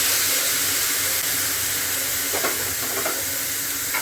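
Chopped tomato sizzles and fries steadily in a pan with fried onion for mushroom gravy, a close, continuous hiss with a few soft stirring scrapes.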